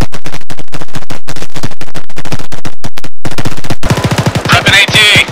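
Gunfire in ArmA 3, a rapid run of loud evenly spaced automatic shots that continues into a denser, harsher burst near the end, close and dominant.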